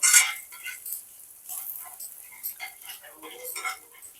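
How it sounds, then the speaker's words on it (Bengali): Spice masala is stirred and fried in a pan on a low gas flame, with a spoon scraping and clinking against the metal over a soft sizzle in an irregular rhythm. There is no talking. "এবার সমস্ত মশলাটাকে একটু নাড়াচাড়া করে নেব। যতক্ষণ না কাঁচা গন্ধটা যায় ততক্ষণ এটাকে একটু ভেজে নেব।"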